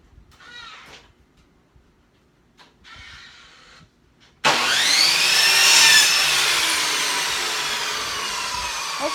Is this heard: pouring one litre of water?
no